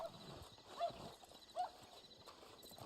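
A horse in the video game Red Dead Online clip-clops and whinnies softly, with two brief snorting bursts over faint background game ambience, no talking.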